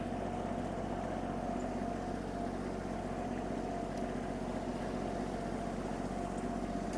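A Kubota GL32 tractor engine runs steadily in reverse, a constant low drone with no breaks, heard alone without talk.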